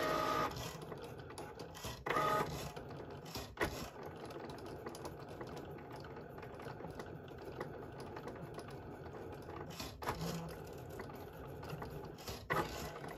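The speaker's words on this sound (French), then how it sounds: "Donc là, elle commence à découper." A Cricut cutting machine works through an infusible ink sheet, a steady mechanical whir and carriage hum with periodic louder shifts and clicks, moderately quiet and without voices.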